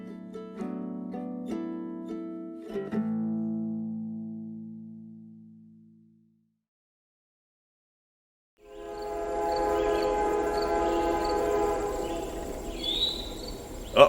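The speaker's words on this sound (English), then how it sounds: "I think I'm gonna have to get off the tracks. I hear the train coming." A train approaches on railway tracks. After a tonal musical passage and a short silence, a rising rumble with horn-like tones builds and holds, fairly loud.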